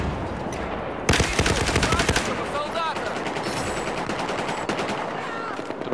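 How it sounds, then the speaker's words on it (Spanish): Gunfire in the video game Battlefield 4 on PlayStation: rapid machine-gun bursts erupt close and loud after a brief lull, followed by scattered shots and in-game effects, with a voice talking over parts of it. "Escucho disparos."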